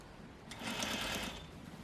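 A sewing machine stitches a skirt seam in a short quiet burst of rapid whirring lasting about a second, close by and alone.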